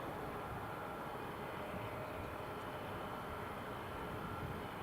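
Sun Express airliner rolling at Newcastle International Airport, a steady broadband jet roar that stays constant and fairly distant throughout, with no voices.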